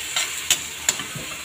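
Seasoned Korean-style noodles being stirred in a pan, with three or four quick scraping strokes over a soft sizzle, close and fairly loud.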